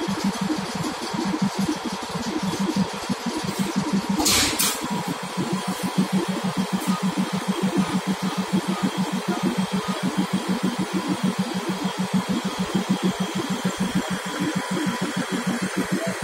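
The small engine of a Darjeeling Himalayan Railway train chugs in a steady, rapid rhythm throughout, loud and close, with a brief sharp burst partway through.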